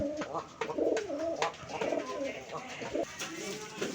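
Rajshahi giribaz pigeons, a Bangladeshi flying breed kept at home, give soft repeated coos close by, with a person talking over them throughout.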